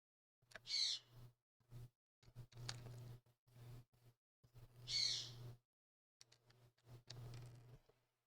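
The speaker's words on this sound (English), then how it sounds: "Can you guys hear the birds?" Birds chirp outdoors in short bursts, with two brighter high calls standing out, heard faintly over a steady low electrical hum with gaps of near silence.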